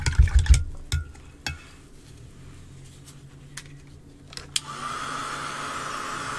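Hair dryer switched on near the end to dry a fresh painting of a fruit drink, a steady whooshing hum starting after a few brush taps and clicks, fairly close.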